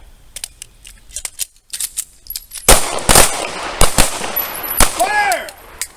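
A string of loud, sharp pistol shots cracks out at a firing range, several close together in the second half and preceded by softer ticks and clicks, with a brief whistling, voice-like tone near the end.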